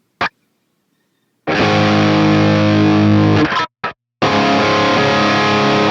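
Distorted electric guitar chords with a gentle, sweeping tape-flange swirl, set in a Line 6 Helix, played loud in two bursts separated by brief silences.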